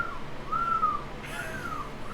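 A person whistles a short, gliding warning-bell style whistle, rising and falling tones over a hissy background, brief and moderately close.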